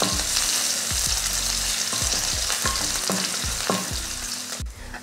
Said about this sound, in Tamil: சேர்த்துட்டு லைட்டாக வதக்கி விட்ருவேன்.